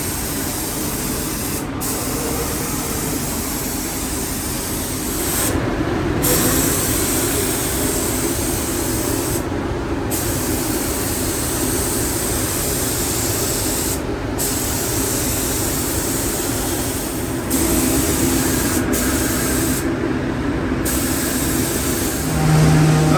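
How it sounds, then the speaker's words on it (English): A spray gun applies sealer coating to a car in a steady, loud hiss that carries on for over twenty seconds. Brief gaps break the spray, and nobody speaks. "we got to coat a sealer on everything."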